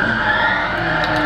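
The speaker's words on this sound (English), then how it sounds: "I'm going to give it a bit more throttle and really try and wrestle the car as it wants to kill" A racing car engine roars while its tyres skid and squeal in the Gran Turismo Sport video game, a loud continuous burst of about a second with no voices.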